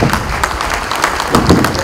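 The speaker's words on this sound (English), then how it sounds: "Can we give him a big round of applause" Audience applause at a televised Nigerian event after a keynote address, a short burst of dense clapping held at a steady level throughout with no talk over it.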